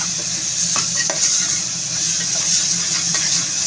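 Coconut being stirred into a frying bean and egg gravy, a constant loud sizzle with faint scrapes and taps from the spoon.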